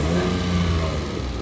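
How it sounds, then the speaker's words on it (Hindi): A parked car's engine revs loud and steady at a standstill, a continuous droning rumble that stays close and even throughout with no voices over it. "इसको आप रेस दीजिएगा, ये गाड़ी एकदम शोर मारेगी"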